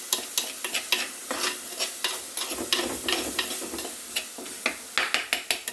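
Water hits a hot pan of drumstick curry with a hissing sizzle, while a spoon scrapes and clicks through the pot in an uneven rhythm close by.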